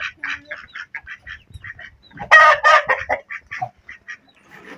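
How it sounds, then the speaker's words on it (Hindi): Desi chickens and ducks cackle, cluck and honk in a busy cluster, with a louder burst of overlapping calls midway, close by and without talk. "ये मुर्गे ज्यादा हैं इसमें।"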